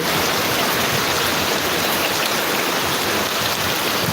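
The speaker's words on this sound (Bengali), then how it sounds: "প্রচুর বৃষ্টি প্রচুর প্রচুর" Heavy rain roars down steadily during flooding in Gazipur, Bangladesh, a dense, constant wash of sound with no pauses and no voices.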